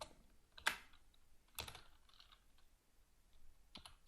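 Sparse keystrokes as code is typed on a computer keyboard, a few isolated clicks spaced out across a quiet room with no talk.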